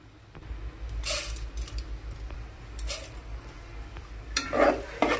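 Peanuts, chana dal and urad dal fry in oil in a pan for a pulihora tempering, a low steady crackle broken by several bursts of a spoon scraping and stirring the pan, close and fairly quiet.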